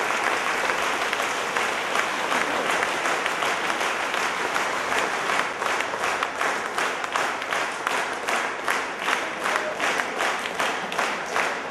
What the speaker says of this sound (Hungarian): A taps már most is jár.